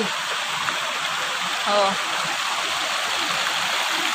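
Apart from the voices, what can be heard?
mountain stream water flowing in the rain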